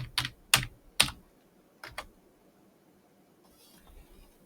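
Computer keyboard typing while working in drafting software, a short burst of a few crisp close key clicks followed by two more taps, then near silence.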